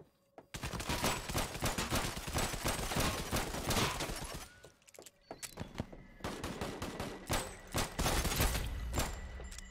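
Dense, loud gunfire from a mobile battle royale video game: rapid automatic bursts and overlapping shots in quick succession, with a brief lull midway before the firing resumes.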